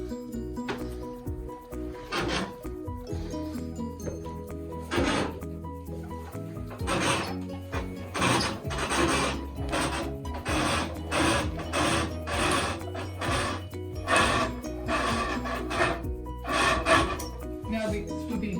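Woven scarves being pulled off a wooden weaving loom: continuous rhythmic rubbing, scraping and rustling in repeated bursts, moderately loud and close, with wooden creaks running throughout.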